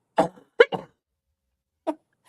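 Three or four short, dry coughs from one person, an initial pair close together, then a single cough after a pause, close and clear against silence.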